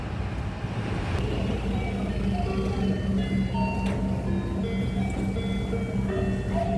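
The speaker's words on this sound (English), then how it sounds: "The Family Mart and the nice song when you come in." Family Mart convenience store entrance chime in Japan, a short electronic melody of bright tones playing over busy store background noise and murmuring.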